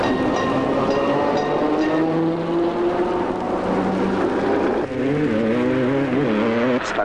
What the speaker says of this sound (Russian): Старинный трамвай в современном Ленинграде оставлен как историческая реликвия.